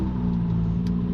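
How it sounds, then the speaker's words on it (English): A truck rumbles past at close range, a steady low engine drone that holds loud and even throughout. "I think this truck's trying to run me over."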